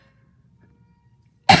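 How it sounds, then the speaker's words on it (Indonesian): A single short, sharp cough from a person who has been coughing for about two weeks. It comes right at the end after near silence. "Gue lagi batuk kayak udah 2 mingguan gak berhenti"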